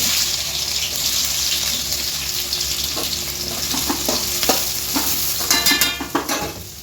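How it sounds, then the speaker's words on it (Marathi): Onion frying with mustard seeds and cumin for pav bhaji, a steady close sizzle throughout with a few stirring clinks and scrapes toward the end. "कांदा एकदम असं लालसर तळतोय"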